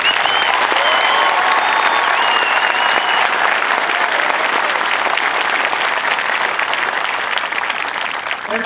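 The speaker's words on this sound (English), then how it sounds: "How about a round of applause for our MTI?" Loud, sustained crowd applause at an Air Force Basic Military Training graduation parade, a dense wash of clapping that holds steady throughout and fades slightly near the end.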